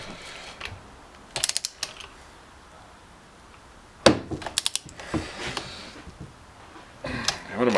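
Bursts of ratchet clicking as bolts on a jet ski are tightened, several short runs of rapid clicks separated by quiet pauses, close and fairly loud.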